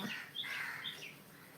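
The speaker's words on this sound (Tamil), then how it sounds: "காக்கா ரொம்ப கோவமாலாம் இல்லைங்க இங்கே மரம் இருக்குது வெயிலுக்காக உட்காந்துட்ருக்கு" A crow perched in a shade tree gives repeated short, bright calls, several distinct notes over a second and a half, moderately close against a faint outdoor hiss.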